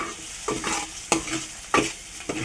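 Oil heating in a pan while stuffed eggplant curry is prepared, a steady close sizzle broken by a few sharp stirring scrapes, with no voices.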